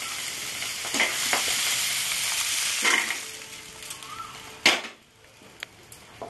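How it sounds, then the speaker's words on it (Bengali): Fish frying in hot oil in a wok for a prawn and raw jackfruit dish, a steady close sizzle with stirring scrapes and a couple of sharp utensil knocks before the frying fades lower. "মাছটা আমার ভাজা হয়ে গেছে।"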